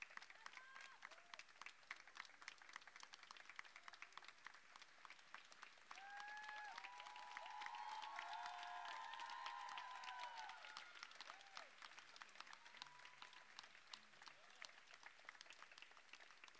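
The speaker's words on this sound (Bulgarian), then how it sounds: "Аплодисменти" An audience at an award ceremony claps continuously, a dense patter of many hands that swells in the middle, with some voices and murmuring in the crowd.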